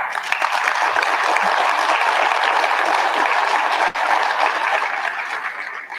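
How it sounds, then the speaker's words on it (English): Steady, sustained applause from a seated crowd at a sheriff's quarterly briefing, a continuous wash of clapping at even loudness that tapers slightly near the end. "please give those young men and women a round of applause"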